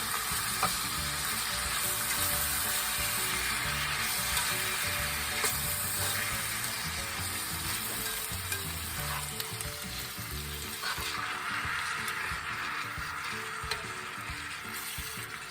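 Food sizzles and fries steadily in a pan as it is stirred and mixed, with diced tomatoes among the ingredients, a continuous close crackling hiss with scraping stir sounds throughout and no talk.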